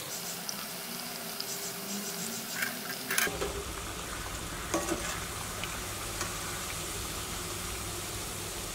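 Beetroot vadai, lentil fritters, fry in oil over a medium flame with a steady, dense sizzle, joined by a few light clinks and taps partway through.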